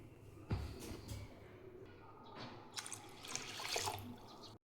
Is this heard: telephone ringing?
no